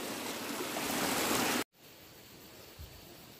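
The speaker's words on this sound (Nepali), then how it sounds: "यो पानी चाहिँ गाइस खेतमा लाने भनेर बाटो बाटो लान्छ" Water runs along a village path toward a field in Pasgaun, Lamjung, giving a steady, close rushing hiss that drops suddenly to a quieter, softer flow partway through.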